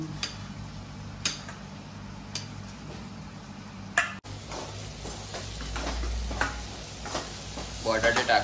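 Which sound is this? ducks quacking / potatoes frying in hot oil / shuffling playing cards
potatoes frying in hot oil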